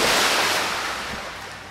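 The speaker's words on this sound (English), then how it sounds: "Let me just use my bird skills to dive in the water." A diving splash into water in the Minecraft video game, a broad rushing whoosh like surf that is loud at first and then slowly fades, with no speech.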